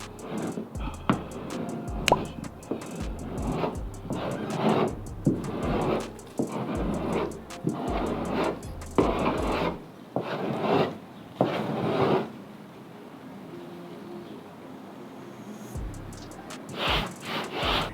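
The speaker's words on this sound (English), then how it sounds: "we're removing the bulk part of the filler and only leaving what we really need to sand" Steady rasping strokes of a file shaving down semi-hardened Bondo body filler on a car panel, close and rhythmic in repeated bursts, with a short pause before the strokes resume.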